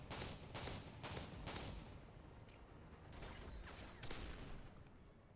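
Repeated shotgun blasts from a Call of Duty survival match, several loud broadband bursts in quick succession with dense gunfire-like noise throughout, no talking.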